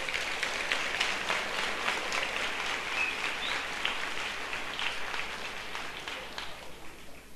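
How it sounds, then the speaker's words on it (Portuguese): A church audience applauds in a dense, sustained wash of clapping that holds steady for several seconds before slowly thinning at the end. "Pode aplaudir Jesus."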